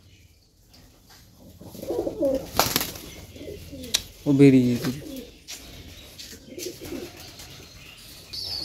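Pigeons coo in a home pigeon coop, soft throaty calls and a brief flutter of wings, while a person talks close by over the birds.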